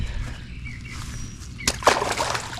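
A fish released back into the water from a Zebco reel setup, with a soft splash and sloshing close by over low background rumble.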